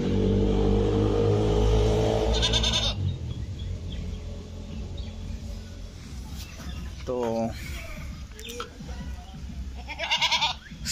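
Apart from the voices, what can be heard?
goats bleating on a farm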